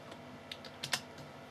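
Several quiet keystrokes on a computer keyboard while entering a terminal command on a Raspberry Pi, with a few irregular taps and one firmer key press near the end, alone with no talking.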